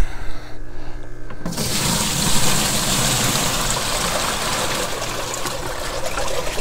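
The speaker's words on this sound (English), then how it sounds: "You can see it dripping out down here in the reservoir." Water from a top-off kit trickles steadily into a hydroponic reservoir in a Fallponic system, a continuous close splashing wash after a quieter start, with no voices.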